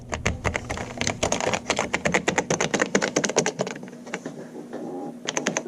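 Fingers type on the keyboard of an old Toshiba 3100 vintage laptop, a quick, irregular run of crisp, close key clacks that pauses briefly, then resumes.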